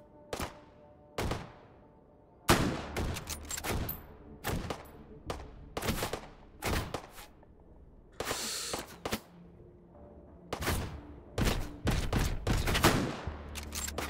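Rapid bursts of virtual gunfire in the VR shooter Hot Dogs, Horseshoes & Hand Grenades, sharp close cracks in irregular clusters and short volleys with brief quiet gaps between them, no talking.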